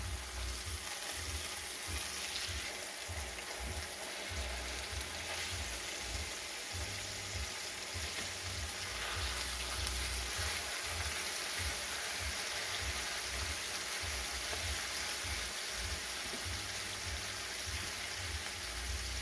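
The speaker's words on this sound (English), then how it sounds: "we're gonna give our meat a flip, and we're gonna allow it to cook on the other side some now" A ribeye steak sizzles steadily in a pan over medium-low heat after being flipped, a continuous close crackling hiss with no talk.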